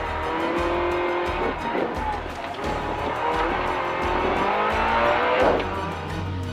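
A Nissan Micra rally car corners hard through hairpins at Bishopscourt Circuit, its engine loud and close with tires squealing, while a co-driver's voice reads pace notes over the racing noise.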